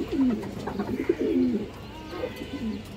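A Muslim breed cock pigeon of an old bloodline coos in a series of low, rolling calls, close and clear, fading toward the end of a short stretch with no talk.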